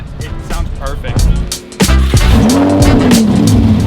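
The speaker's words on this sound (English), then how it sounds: "I was gonna sound like a high school kid with a cut-off exhaust romping around, but it sounds perfect." A truck's exhaust at a truck meet, engines revving loudly with tires squealing and sliding, an abrupt burst of engine noise midway followed by a sustained rising and falling rev, with people talking.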